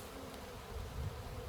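A swarm of honeybees hums in a soft, continuous buzz close by while being installed into a hive at a barn, with no voices heard.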